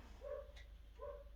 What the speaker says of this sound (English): I know my neighbour's in, the dog's barking.